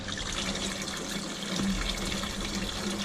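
Hot water gushing steadily from a newly plumbed tap on fresh PEX lines, a loud continuous splashing hiss that runs alone throughout.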